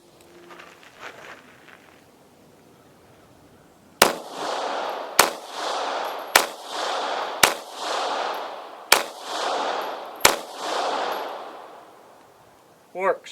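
A Taurus PT709 Slim pistol fires six sharp shots at a range with hard-primer ammunition in a Pro Mag magazine, spaced roughly a second apart and each followed by a brief ringing decay, loud and close, with a few quiet words spoken.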